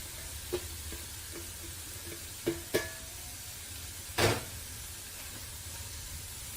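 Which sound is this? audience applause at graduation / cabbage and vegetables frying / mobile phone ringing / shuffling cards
cabbage and vegetables frying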